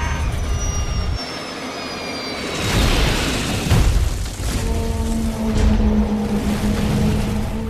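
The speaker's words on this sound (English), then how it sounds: "Moments later, the aircraft plunges into the hillside." An aircraft's roaring engines descend in pitch before a deep rumbling impact as the plane slams into a hillside, followed by crashing debris and a lingering low drone, all loud and close.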